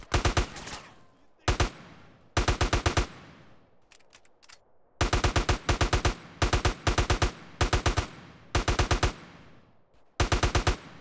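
Shotgun blasts from the game GTA San Andreas, loud close bursts fired in quick clusters of three to five shots with short pauses between volleys, plus a few sharp clicks in one gap.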